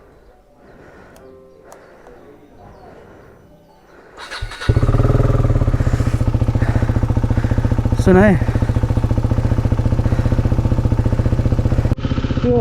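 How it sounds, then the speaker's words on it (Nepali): A KTM motorcycle with an engine problem starts after a few seconds of quiet talk, then idles loudly and steadily with a fast, regular ticking pulse running through the engine note. "टिक टिक टिक टिक टिक साउन्ड गरिरहेको नि"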